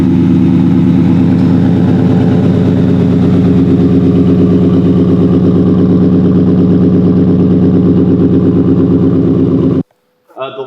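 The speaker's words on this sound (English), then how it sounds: "the Roush catback exhaust system to give this truck an absolute mean sound to it" A deep, loud, rumbling supercharged 650-horsepower Ford F-150 pickup engine idling with a throaty Roush catback exhaust burble, steady and close, cutting off abruptly near the end before a voice begins.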